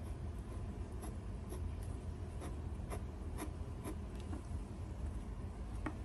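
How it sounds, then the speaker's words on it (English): A fountain pen draws squiggles on paper with Vinta ink, making faint, soft scratchy strokes that repeat in a loose rhythm over a quiet background. "let's try to draw squiggles"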